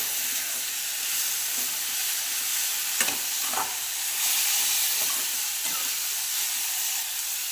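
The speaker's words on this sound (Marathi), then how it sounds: "मटकी धुवून घेतलेली आहे ती पण टाकून घ्यायची ती अशी एक मिनटासाठी हलवत राहायची" Moth beans frying in a pan while being stirred, a steady sizzling hiss with a few scraping stir strokes, close and constant with no talking.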